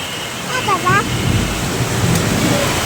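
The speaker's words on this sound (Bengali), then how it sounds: "অনেক বৃষ্টি হইতেছে, অনেক বৃষ্টি। আস্তে আস্তে বৃষ্টির গতি বাড়তেছে" Heavy rain pours down in a steady, dense hiss that stays loud throughout, with a voice cutting in briefly near the start.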